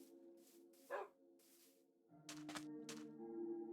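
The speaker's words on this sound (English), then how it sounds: "There's a dog." A dog in the video game Minecraft gives a few short, quiet barks and yips at intervals over a low steady background tone.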